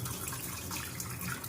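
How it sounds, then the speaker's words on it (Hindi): Lentils (dal) are rinsed in a vessel of water, a steady close sloshing and trickling of water with grains swirling, continuous and without speech. "तो इनको मैं 3-4 बार साफ करूँगी, इसको छिलके वगैरह निकल जाएंगे फालतू के"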